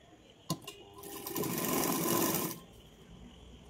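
Sewing machine stitching a blouse seam, a short mechanical clatter of about a second and a half starting after a couple of sharp clicks, then stopping, fairly close with no talk.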